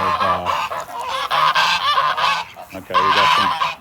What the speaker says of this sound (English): we got some ducks mating.